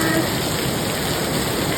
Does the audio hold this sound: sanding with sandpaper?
no